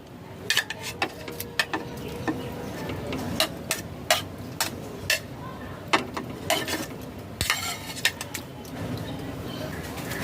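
Five hundred grams of chicken is worked by hand with onion juice, salt, sugar and mustard oil for a gandharaj chicken marinade, giving irregular wet squelches, scrapes and sharp clinks against a bowl, close and fairly loud, with a steady murmur underneath.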